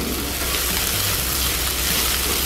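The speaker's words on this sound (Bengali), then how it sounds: "একটু চেপে চেপে ভাজতে হবে যেন সবগুলো একসাথে মিলে যায়।" Steamed amaranth leaves with a whole green chilli fry in a pan, giving a steady, dense sizzle and hiss that continues evenly throughout without pause.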